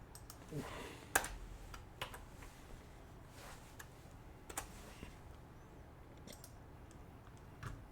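Keys on a computer keyboard are tapped in short, scattered bursts while someone sets up stock charts, the clicks faint and irregular over a quiet room with low background noise.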